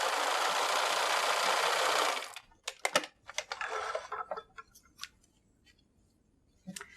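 A sewing machine stitches small fabric pieces onto a fabric postcard, whirring steadily for about two seconds, then falling to scattered clicks, taps and handling noises; no talking.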